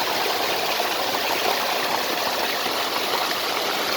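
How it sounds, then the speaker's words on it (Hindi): Clear water pours down from above into a mountain stream at Lodi Khel in Kachayi, Khyber Pakhtunkhwa, Pakistan, a loud, close, unbroken rushing hiss heard alone. "ये ऊपर से पानी आता है,"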